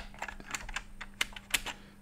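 Keys are pressed on a ZX Spectrum+ home computer keyboard, some of them not working: a quick, irregular run of close, crisp clicks and taps with brief gaps between them.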